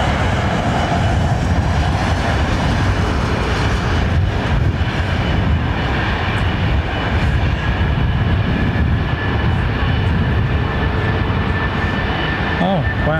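A Boeing 777 airliner at London Heathrow Airport produces a sustained broad jet rumble and rushing roar that stays loud throughout, with people talking intermittently over it.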